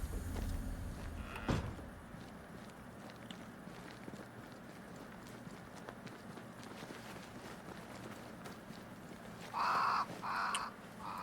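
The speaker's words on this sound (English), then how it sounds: "Crows." Crows cawing in the video game Banishers: Ghosts of New Eden, a few short harsh calls near the end over a steady ambient game background.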